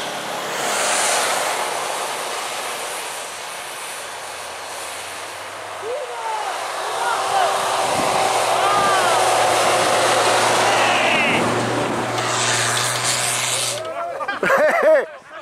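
A 4x4 engine revs hard and holds a loud, droning roar while the vehicle drifts in snow during a Transylvania off-road raid, with voices calling out over it.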